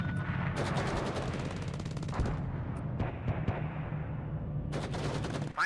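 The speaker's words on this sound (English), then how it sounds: "Nice thing about the Panzer mortars is they are 120mm mortars. So they do a decent amount of damage when they hit." Gunfire and 120mm Panzer mortar fire in the war game WARNO, a dense run of sharp repeated reports and booms over a continuous low rumble, loud and close, with a few isolated bangs near the end.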